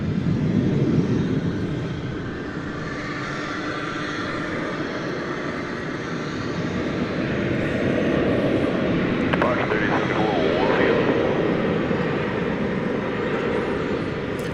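Jet airliner engines at DFW airport drone in a broad, steady roar that swells and eases slightly, heard from moderate distance in open air with talking over it.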